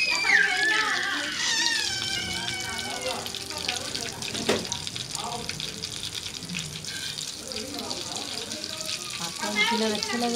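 Egg-coated kebabs fry in a pan with a steady sizzle under continuous talking and background kitchen noise, including some running water.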